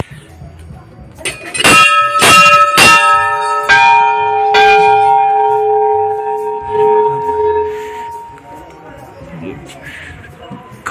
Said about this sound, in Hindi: घंटियां ही घंटियां हैं पूरे मंदिर में।